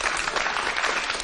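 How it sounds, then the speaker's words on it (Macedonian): Audience applause for a young girl of nearly eight, a steady wash of many hands clapping close and fairly loud throughout, with no talk over it. "Еден аплауз за неа."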